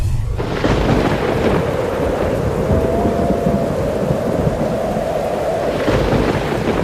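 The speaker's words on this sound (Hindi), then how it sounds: "घने बादल जमने के कारण लगातार 5 दिन से बारिश हो रही है" Heavy rain pours in a steady, loud hiss while thunder rumbles low and long beneath it during a flood storm in an animated village scene, with no voices.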